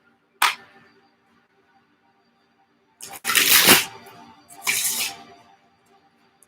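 Shiny cards are shuffled close up in three quick riffling bursts: a short crisp flick, then two longer rustling shuffles separated by silence, with no talking.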